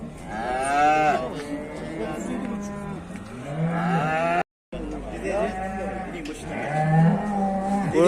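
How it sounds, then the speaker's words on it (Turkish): Cows moo loudly and repeatedly at a busy livestock market in Afyon, long low bellows overlapping one another, with people talking nearby. "Burada bir buzdağıl ineğimiz var arkadaşlar."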